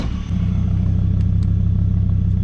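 A VR5 engine in a Chrysler Savoy with an exhaust leak runs loud and close with a rough, rumbling exhaust tone, holding a steady revving drone with a slightly ragged, leaky rasp.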